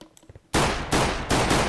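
Gunfire in the Minecraft Minestrike game mode: three loud, sustained bursts of rapid shots follow one another after a short stretch of quieter game sounds.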